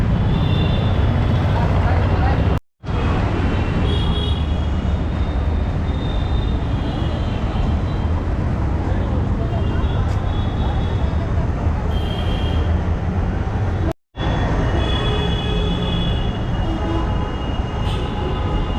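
A Mumbai local train runs with a steady, loud rumble and rattle of wagons throughout, broken by two brief cuts, with people talking faintly underneath.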